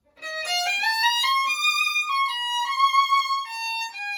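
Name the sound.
violin scale with fast up-bow shift to 3rd position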